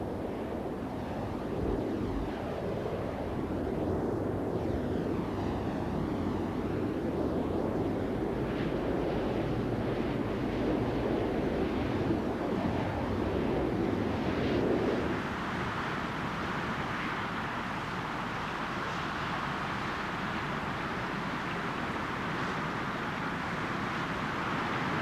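A nor'wester wind sweeps across southern lakes, whipping water into choppy waves; loud continuous rushing wind and surf with buffeting gusts, shifting to a harsher spray-filled wash partway through.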